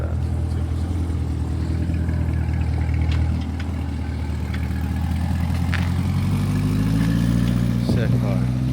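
A Corvette with about 19,000 miles and fat tires runs its engine with the exhaust opened up, a steady low rumble with a slight rise near the end, heard under people talking nearby.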